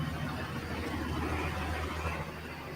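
Pulling vehicle engine warming up at a pulling event, a steady low idle rumble held at a constant level throughout, with broadband crowd or outdoor noise around it.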